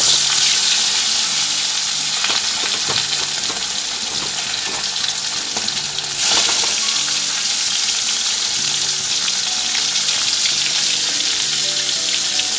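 Pieces of fish fry in a pan of hot oil with a loud, continuous sizzle and crackle, close by and without talk.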